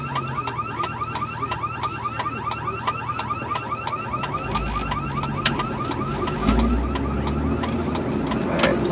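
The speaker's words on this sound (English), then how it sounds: "Well, somebody's car alarm's going off." A car alarm goes off nearby, cycling through a steady, repeating pattern of electronic chirps and wails. A low background rumble sits underneath.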